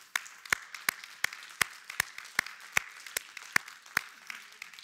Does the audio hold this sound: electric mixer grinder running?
no